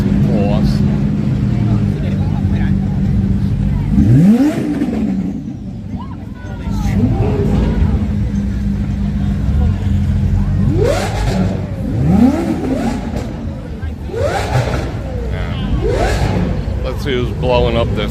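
A supercharged car engine revving on a busy Las Vegas street at night, several rising revs and whines over steady traffic rumble, with people talking nearby throughout.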